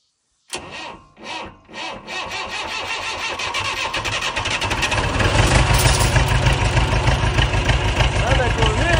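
An old backhoe loader cranks over several times in loud, slow pulses. The engine then catches and builds into a rough, rising, steady run up close, with voices heard nearby.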